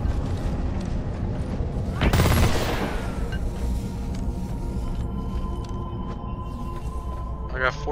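A big gun fired in the Deep Rock Galactic game, one heavy burst standing out amid a constant din of game mechanisms and clatter, with a short rattling run near the end.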